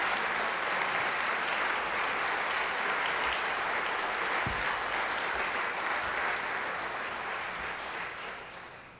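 House staff receive a round of applause in a legislative chamber at a farewell address, a sustained, even wash of clapping from many hands that gradually tapers off at the end.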